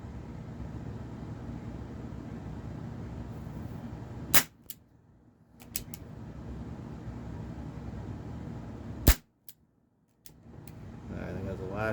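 An air gun firing H&N lead-free test pellets: two sharp, loud cracks several seconds apart with a fainter click between them, set over a steady outdoor background hiss.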